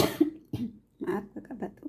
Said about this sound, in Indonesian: maaf kakak batuk